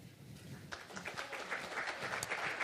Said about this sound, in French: vous pouvez l'applaudir pour l'encourager pendant qu'elle descend les escaliers